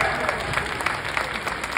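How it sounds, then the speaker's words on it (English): An audience at a marching band camp performance gives Mr. Brown a brief, steady round of applause, a dense wash of clapping that carries evenly throughout. "Let's give Mr. Brown a round of applause."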